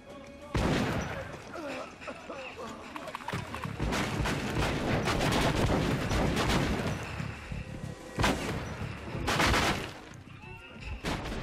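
Sustained gunfire in the video game Metro Last Light, loud bursts and rapid shots with crashes and booms running throughout, heaviest near the middle and end, with brief voices mixed in.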